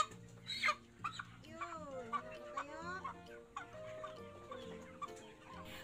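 Backyard chickens cluck softly in a pen, with a few short, irregular calls over a quiet background and a voice speaking faintly in between.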